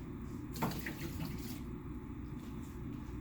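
Water pouring out of a 260 millilitre jar into a sink, a steady splashing stream that runs throughout with a brief louder gush near the start, close by and with no talking.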